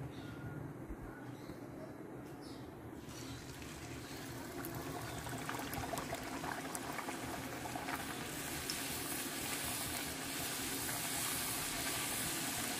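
Palak puri frying in hot oil, a dense bubbling sizzle that swells louder and brighter over several seconds, continuous and close.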